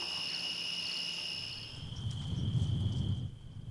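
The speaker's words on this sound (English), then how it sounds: "the perfect evening entertainment is just to chill out on the porch and listen to the crickets" Crickets at dusk around the porch of a working ranch in the Sand Hills, a steady high trill holding throughout, with a low rumble swelling beneath it toward the end.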